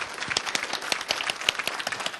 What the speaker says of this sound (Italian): E lo facciamo un grande applauso anche a, a Marco, ma forte però.